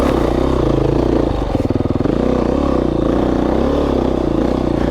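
A dirt bike engine runs steadily on a singletrack trail in Idaho. It is loud and close, with a brief dip and sputter in the middle before the engine note settles back to a constant drone. No one speaks.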